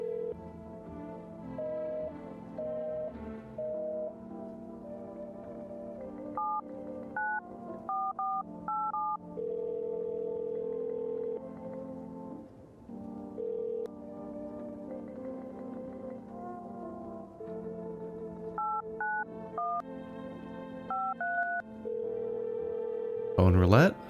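A long run of DTMF keypad dialing in the video game No, I'm not a Human: steady sequences of tones and stepping beeps over a held dial tone, fairly loud and continuous, ending with a brief louder burst.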